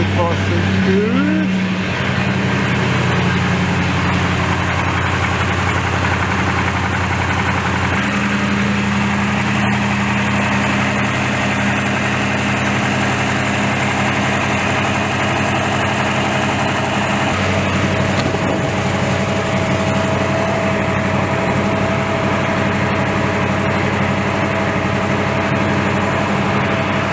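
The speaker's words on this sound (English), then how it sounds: "just quickly shut the engine back off again before I kill myself with carbon monoxide poisoning" A 1956 Chevrolet Bel Air V8 idles steadily for nearly half a minute, a loud, even low rumble with a slight pitch shift partway through, close to the mic.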